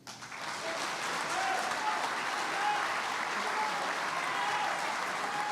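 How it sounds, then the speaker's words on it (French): An audience at a political meeting applauds parliamentarians with sustained, even clapping that swells quickly and holds steady at a moderate distance throughout. "tous ces parlementaires, de droite comme de gauche, on peut les applaudir"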